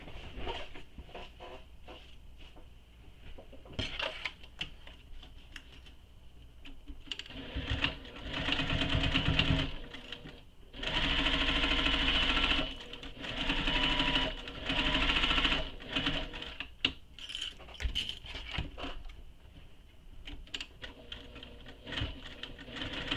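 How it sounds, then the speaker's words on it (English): A sewing machine stitches a tote bag in several bursts of rapid, rattling whirring, separated by quieter pauses with small clicks and handling noises, close and fairly faint. "we're going to stitch up beside this line with the seam allowance she gives"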